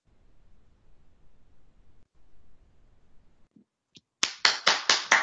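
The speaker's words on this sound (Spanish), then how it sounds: "Sí, aplausos." Audience applause after a spoken talk bursts in near the end: several loud, sharp clap-like bursts in quick succession following a few seconds of quiet low rumble and a couple of isolated taps.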